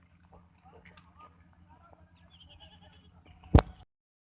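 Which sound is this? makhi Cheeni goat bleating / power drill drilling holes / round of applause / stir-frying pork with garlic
makhi Cheeni goat bleating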